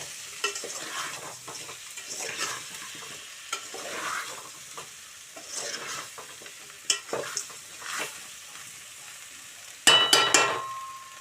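Cucumber pieces with their seeds and chopped okra are stirred in a pan for sambar: soft intermittent scrapes of a spoon over a faint sizzle, ending in a louder clatter of utensil on pan.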